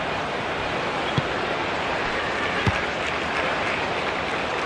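Crowd applause from a football video game, eFootball PES 21, a steady broad wash of distant clapping and stadium roar with a couple of brief thumps, and no clear talk.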